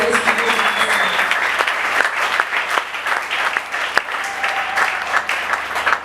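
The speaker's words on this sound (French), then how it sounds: "Est-ce qu'on peut acclamer Jésus?" Sustained applause from a church congregation cheering for Jesus during a Sunday service, a thick wash of clapping hands with occasional louder claps and faint voices underneath.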